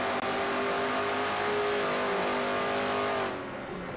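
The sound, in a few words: Pontiac race car engine in NASCAR racing video game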